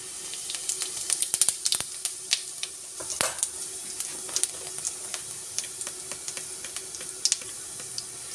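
A spoonful of cumin seeds crackles and sizzles in hot cooking oil for a restaurant-style mixed vegetable dish, a soft, steady hiss dotted with small pops, with no talking.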